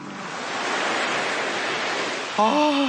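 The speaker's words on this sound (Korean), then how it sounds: "거기 해수욕장 파도 소리나 시원하게 들려줘 보세요" Beach ocean waves played as a sound effect, a continuous soft rush of surf that swells slightly, with a brief voice-like tone cutting in near the end.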